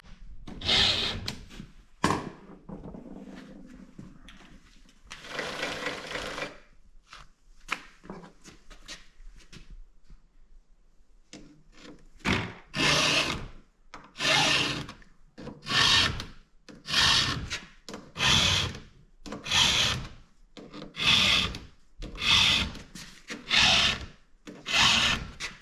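A file rasps across a chainsaw chain to sharpen it, first a few scattered strokes, then a steady run of regular back-and-forth strokes, close and clear with no talk.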